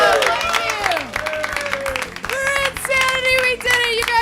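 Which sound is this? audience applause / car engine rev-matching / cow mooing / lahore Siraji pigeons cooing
audience applause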